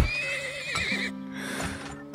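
A loud, close horse whinny from a video game rises and trails off, followed by a lower snort-like call over a steady hum, with faint hoof clops beneath.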